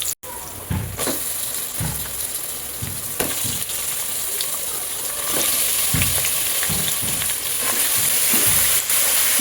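Mutton fries in oil in a pressure cooker, a continuous hissing sizzle close by, with periodic stirring scrapes and clunks throughout.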